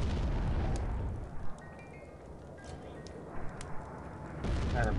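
Bombs explode in American McGee's Alice: heavy booming blasts open and close the stretch, with a few sharp pops and thuds between them over a rumbling game background.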